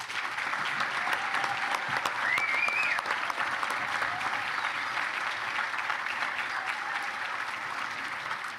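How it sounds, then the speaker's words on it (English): An audience at a sheriff's office jail and police academy graduation ceremony gives sustained applause for the graduates, a steady wash of clapping from a crowd indoors that carries on throughout at moderate loudness. "And let's have a round of applause for all of the graduates."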